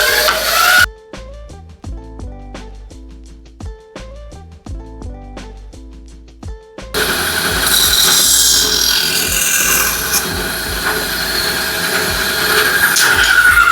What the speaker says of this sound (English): We're gonna cut it out here on the bandsaw.